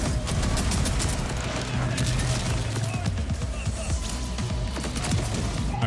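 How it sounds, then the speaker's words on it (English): Grenades bouncing and exploding in the Borderlands shooter game, a dense continuous barrage of bangs and gunfire crackle at steady loudness throughout. "see that grenade out there bouncing around between everybody?"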